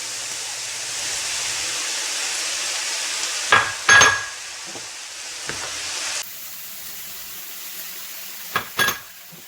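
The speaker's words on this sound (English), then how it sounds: "We're gonna go ahead and dump our frozen peas into the" Frozen peas go into a hot pan already browning sliced kielbasa, with a steady, fairly loud sizzle, a few clattering knocks of the pan or utensil, then a quieter hiss afterward.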